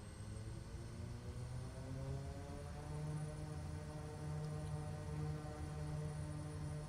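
Steady propeller aircraft engine drone in Microsoft Flight Simulator 2020 at high idle with prop full forward, a continuous buzzing hum with layered harmonics that swells slightly louder partway through, with no talk over it.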